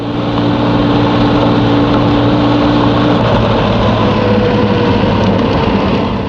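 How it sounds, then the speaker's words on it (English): A steady, droning Porsche car engine roar runs loud and unbroken throughout on a dynamometer test stand in 1973, with low mechanical hum and no pauses or voices. "the engine, gear train, and brakes get a workout on the dynamometer"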